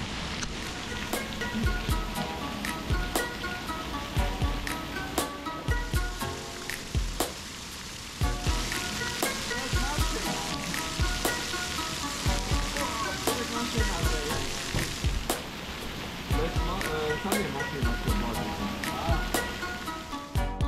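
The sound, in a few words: heavy rain pouring down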